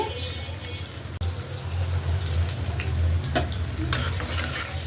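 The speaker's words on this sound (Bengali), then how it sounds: "একটু ভাজা হোক।" Onions sizzle steadily in hot oil, a dense continuous crackle close by, with a few sharper clatters of stirring.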